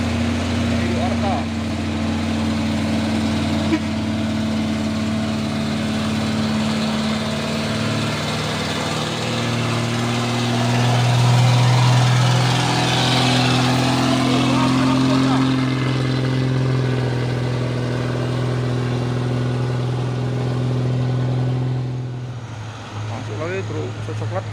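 Deep diesel engine rumble of trucks idling and creeping forward on an Indonesian road, a brown truck with a tanker truck behind, a loud, steady drone that swells midway and drops off near the end, with a voice talking over it.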